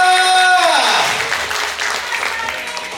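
A crowd bursts into loud, sustained applause and cheering after a musical chord fades out, the clapping continuing steadily to the end.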